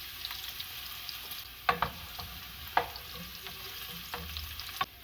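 Chopped onions and garlic fry in a pot with a steady quiet sizzle, broken by a few sharp clinks of stirring.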